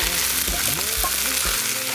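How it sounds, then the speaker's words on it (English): Chopped onion sizzling as it hits hot oil in a pot for a Cajun chicken fricassee, a steady close frying hiss with soft stirring scrapes throughout, no voices. "you test that by dropping your onion in there"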